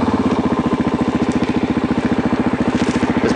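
A supermoto motorcycle's single-cylinder engine runs close up and loud with a fast, steady, pulsing beat, held at rising revs without any talk over it.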